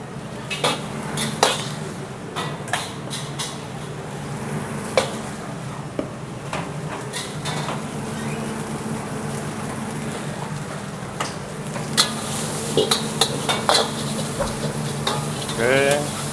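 Rice with curry seasoning is stir-fried in a restaurant pan, with a steady sizzle under repeated metallic scrapes and clanks of a spatula against the pan.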